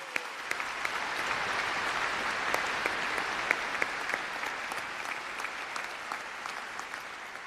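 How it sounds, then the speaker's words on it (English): A large audience applauds the faculty at a university commencement ceremony, with steady, dense clapping that continues evenly for several seconds in a big hall. "Please join me in applauding the faculty for their service to OSU"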